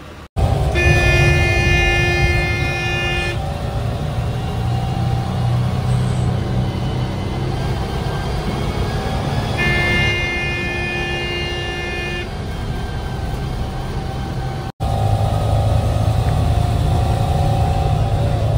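An MSRTC state transport bus sets off from the Lonavala bus stand toward Alibag, its engine droning loudly and steadily throughout while a long horn sounds twice, the first blast near the start and another midway.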